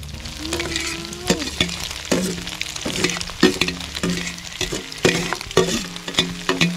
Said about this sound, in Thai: นอที่เราหั่นสวยงามค่ะใส่ลงไปเลย